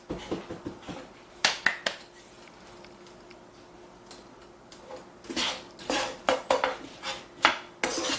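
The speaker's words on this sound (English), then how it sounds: "Now I'm going to let these saute." Vegetables for beef stew sautéing in a pot, with scattered utensil clinks and scrapes against the metal and a soft sizzle underneath, in bursts at the start and a busier cluster toward the end.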